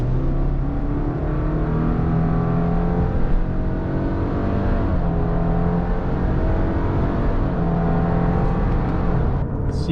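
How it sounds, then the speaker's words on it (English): Lifted 2021 Subaru Crosstrek Sport 2.5 on all-terrain tires, heard from inside while driving: a steady low road roar and tire hum with mild engine whir, continuous and even, no talking. "you can hear those all-terrain tires spinning beneath us right now"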